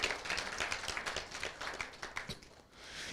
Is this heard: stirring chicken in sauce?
no